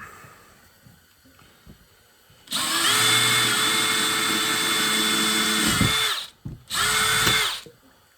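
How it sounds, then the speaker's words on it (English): A power drill with a small bit whirs loudly through a coconut shell for several seconds, cuts out briefly, then drills again in a shorter burst before stopping. "first I'm going to drill"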